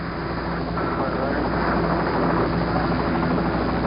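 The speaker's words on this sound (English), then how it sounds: "40 feet separate the helicopter and the spacecraft, the surface of the water." Helicopter rotor and engine roar, loud and steady, hovering about 40 feet above the Apollo 11 spacecraft on the ocean surface during astronaut recovery, a dense broadband drone with talk underneath.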